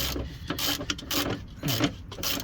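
A spanner works an engine mount bolt on a Ford Transit Connect, giving close metallic ratcheting and scraping clicks in quick irregular bursts, with a brief grinding slip.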